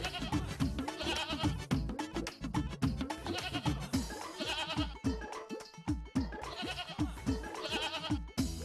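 A goat bleats in a drama scene, its wavering cries repeating over a busy, rhythmic musical backing that runs continuously throughout.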